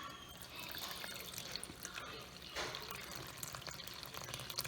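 About half a liter of water poured into a dome of flour for fry bake dough, a faint steady trickle and dribble close by, heard alone.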